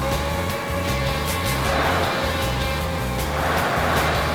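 Traffic cars in an old Sega arcade racing game, played on Windows 10, give a steady synthesized engine drone with repeating stepped pitch patterns and occasional passing swells, with no speech.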